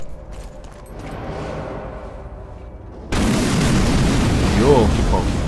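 Explosions in the video game Sniper Elite 4 arrive as a sudden loud boom that jumps into a sustained roaring rumble after a quieter stretch, with faint whining tones near the end.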